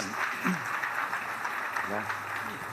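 Audience applause greeting speaker Sebastián Campanario at a Marketers 22 conference talk on creative thinking, a steady broadband wash of clapping under a host's voice, moderately loud and continuous.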